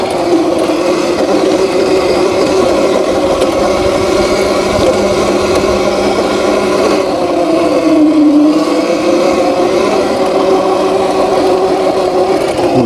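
HeyBike Villain electric dirt bike riding off-road up hills, a steady loud motor whine with wind and tire rumble running continuously throughout, no talk.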